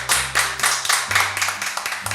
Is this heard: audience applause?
yes